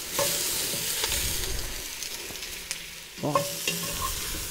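Onions and meat fry and are stirred in a Dutch oven for Viennese tavern-style goulash, giving a steady close sizzle with scraping stirs throughout and a brief louder clatter near the end; a single short exclamation is heard.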